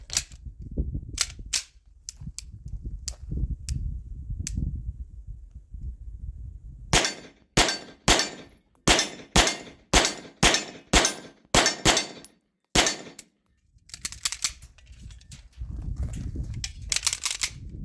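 A Military Armament Corporation MAC 1911 DS pistol fires at an outdoor range: a few scattered shots give way to a rapid string of about a dozen sharp, loud reports at a steady pace, with some brief gaps between them.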